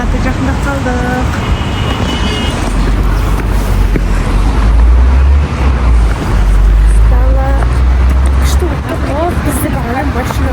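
A car passes nearby and splashes through water on a wet street, a loud rushing wash over steady traffic rumble, with people talking close by throughout.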